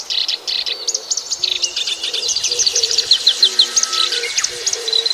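Small birds chirp and tweet rapidly in their nests, a bright, busy run of high calls close by, with a faint insect-like trill underneath.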